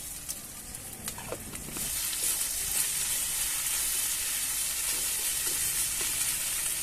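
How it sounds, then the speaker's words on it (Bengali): Cumin paste with turmeric and a little sugar fries in a pan, a close, steady hiss of sizzling that grows stronger after a couple of seconds, with faint stirring scrapes and no talk. "মশলাটা কষানো হয়ে গেছে"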